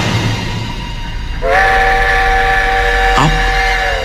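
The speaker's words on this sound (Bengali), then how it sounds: "রেলগাড়ির আগমনী কানে আসতেই আমি চমকে উঠলাম।" A train approaching along the rail line, a steady low rumble joined by a loud sustained multi-tone horn blast that holds for several seconds, with a brief clanking burst near the end.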